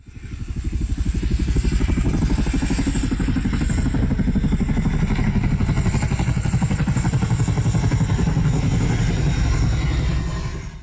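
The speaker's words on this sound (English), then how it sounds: "That's the sound of a Chinook support helicopter" A heavy Chinook twin-rotor support helicopter thumps steadily and rapidly at close range, its loud rhythmic chopping constant throughout with a whining engine tone above.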